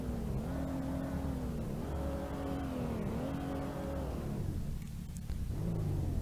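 Simulated Ford 6.3L V6 in a BeamNG.drive car revving hard with its wheels off the ground, a loud sustained engine drone whose pitch climbs and falls in repeated surges before dipping and rising again.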